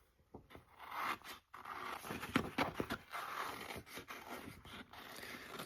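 Paper cut out for handmade cards: close, uneven rustling, snipping and scraping strokes with short pauses between bursts of cutting.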